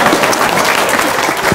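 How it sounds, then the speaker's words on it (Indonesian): Loud, dense applause from an audience at an Indonesian gathering, a continuous wash of many hands clapping at once, steady throughout and heard alone. "Tepuk tangan dong."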